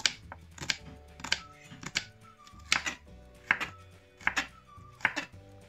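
Onion chopped finely with a knife on a board, a quick run of sharp, evenly spaced chops in short bursts with brief pauses between, close and crisp with no talking.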